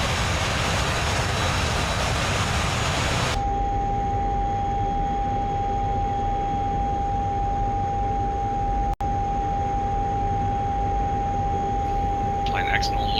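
Airplane engine in a flight video game holding a steady, loud drone with a sustained tonal whine as the plane starts its takeoff, preceded by a burst of broadband roar; a single sharp click cuts in near the middle.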